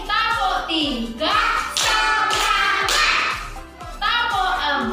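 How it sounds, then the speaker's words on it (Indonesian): A classroom of children clapping hands in a counting game, sharp rhythmic claps landing in steady groups beneath loud chanting kids' voices. "kita akan bermain tepuk dulu"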